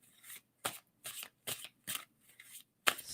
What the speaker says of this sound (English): And tell me to stop shuffling.